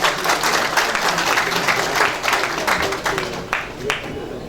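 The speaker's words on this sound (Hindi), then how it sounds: "इनकी पूरी टीम के लिए एक जोरदार तालियां हो जाए।" Audience applause rings out for the Prabhat Khabar newspaper team at a poetry gathering, a dense, steady wash of clapping from a crowd that holds for several seconds, with faint voices mixed underneath.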